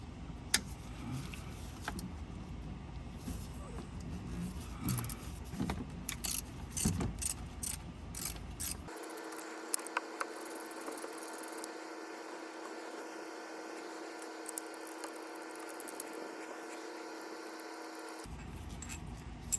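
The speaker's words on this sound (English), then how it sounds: "using a 13mm socket like this one, we're going to be removing all 3 bolts" Bolts on the AC compressor of a 2.4L Dodge Chrysler Jeep engine backed out with a 13mm socket and ratchet, giving a continuous run of ratcheting clicks and mechanical rattles that later turns into a steady whirring.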